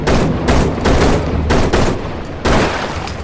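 Rapid bursts of video game gunfire ring out in quick succession, loud and close, a fusillade of repeated shots over about three seconds.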